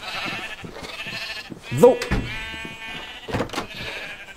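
Sheep bleat several times in the farming game Life in the Woods, with a loud, wavering cry near the middle and a shorter one near the end, set over steady background game music.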